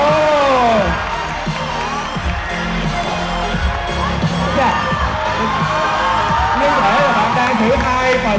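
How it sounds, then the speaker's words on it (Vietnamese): Crowd at a university talent show stage performance cheers, whoops and shouts loudly and continuously, with voices rising over a dense, sustained roar. "Vỗ tay được không nào?"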